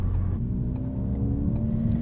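A 2016 Ford Focus RS, a 350hp hot hatch, cruising on a morning commute, its engine a steady low drone with a faint rising whine, close and continuous, no voices.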